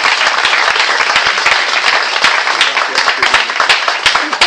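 A church audience claps and cheers for Jesus, steady dense applause with scattered sharp claps throughout, loud and close.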